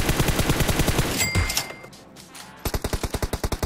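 Rapid automatic gunfire in the video game PUBG, a fast evenly spaced string of loud close shots, a brief pause with fading echo, then another quick burst of shots.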